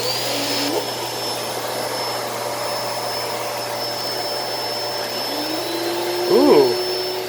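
Hoover Elite Cyclonic S3825 canister vacuum cleaner running steadily with a constant drone and high whine throughout, a brief rise near the end.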